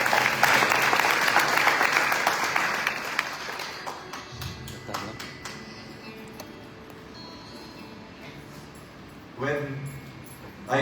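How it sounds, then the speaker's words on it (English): Loud applause from a crowd at a Hindu devotional event in South Africa, honoring a tabla player, fades after about four seconds into scattered claps, light taps and a few voices, with another brief swell near the end. "Please give him a round of applause."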